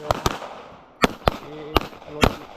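Pistol gunshots at an outdoor shooting range: five or six sharp, loud cracks in irregular spacing, a close pair first and then single shots, with people talking quietly between them.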